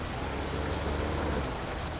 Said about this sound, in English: it's still raining, which is alright. We can log in the rain